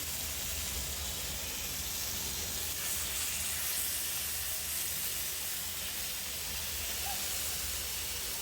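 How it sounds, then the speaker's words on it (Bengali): Vegetable rolls fry in a little oil in a pan, a soft, even hiss and sizzle that holds steady throughout, fairly quiet and uninterrupted, with no voices. "সবজি রোল ভেজে নিচ্ছি"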